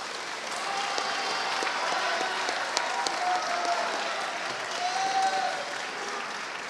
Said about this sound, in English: Please give a round of congratulatory applause to Cadet